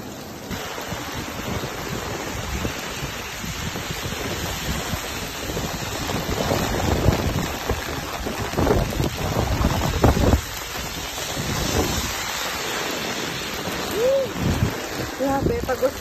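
Heavy rain pours down outdoors in a dense, steady roar that swells a little toward the middle, with some faint, indistinct vocal sounds mixed into the wash.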